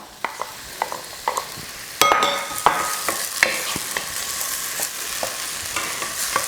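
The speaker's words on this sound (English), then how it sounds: "we're going to add in some chopped tomatoes" Chopped Roma tomatoes with seeds and juice are stirred into a cooking queso blanco spinach dip, giving a loud burst of sizzling followed by repeated close spoon scrapes and clicks against the pan.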